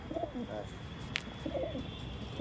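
Soft, low cooing of Andra pigeons in a couple of short phrases, with a faint sharp click in between and a steady background hum.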